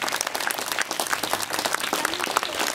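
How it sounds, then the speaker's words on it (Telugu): Loud, dense applause from an audience fills the whole stretch, steady and unbroken with no voices on top. "వీళ్ళందరికీ ఒకసారి మరొకసారి ధన్యవాదాలు చెప్తూ చప్పట్లు భారీగా కొట్టండి"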